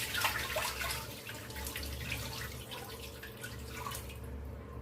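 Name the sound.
pouring off dirty water from washed fenugreek leaves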